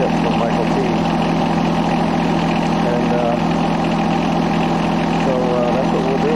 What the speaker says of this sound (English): So these 3-cylinder diesels that John Deere puts in these tractors